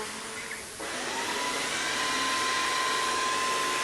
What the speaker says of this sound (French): il est un petit peu bruyant, on peut le constater, mais pas vraiment plus qu'un aspirateur normal